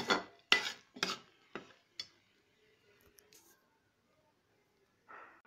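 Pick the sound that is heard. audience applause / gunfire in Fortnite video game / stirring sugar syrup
stirring sugar syrup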